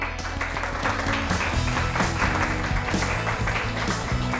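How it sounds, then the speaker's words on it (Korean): A studio audience at a lecture show claps for a master craftsman in high-pressure gas equipment who is stepping in to speak, a dense, steady round of applause that stays at even strength throughout. "명장님을 큰 박수로 맞이해 주세요."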